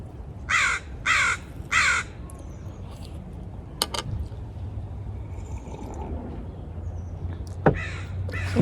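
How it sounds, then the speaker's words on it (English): Loud bird, likely a crow, cawing outdoors: three harsh caws in quick succession near the start, then another louder call near the end over quiet background noise. "Sorry about the bird. It's so loud."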